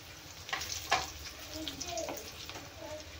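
Red chillies are added to hot tadka oil with crushed garlic cloves for a chutney, giving a steady close sizzle and bubbling crackle with a few sharper pops as they hit the oil.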